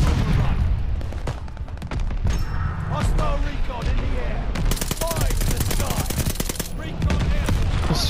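Rapid automatic gunfire from a hard-recoiling gun in Call of Duty Vanguard multiplayer on the Hotel Royale map: sustained, loud rattling bursts with short gaps and thumping impacts, and faint voices mixed underneath.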